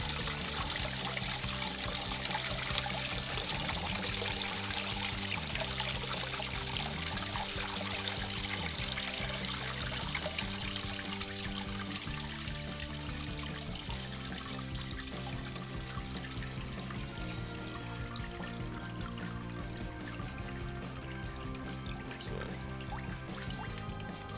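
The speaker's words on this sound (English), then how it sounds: "Ready to turn it off now, and let that sanitizer come on out." Sanitizer liquid trickles and pours steadily out of an Electro Freeze CS700 soft-serve machine during cleaning, a continuous close wash of running liquid with a low mechanical hum underneath.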